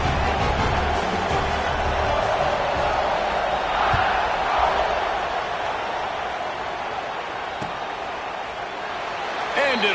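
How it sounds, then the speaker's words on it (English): Football stadium crowd buzzing after a touchdown during an Oregon versus Alabama college game, a dense steady roar under continuous commentary. "this crowd is buzzing after that last score"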